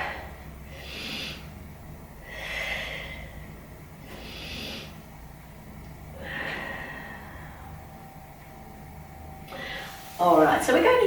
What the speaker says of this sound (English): Take 3 big breaths into your back.